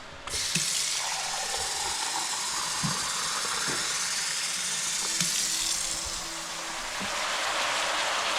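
Water splashes and pours steadily into a container, a continuous rushing stream with faint clinks, no talking.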